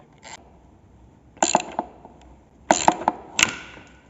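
A wrench works a support bolt loose on an M42B18 cylinder head from a BMW 318is, with a few sharp metallic ratcheting bursts and clicks separated by quiet pauses.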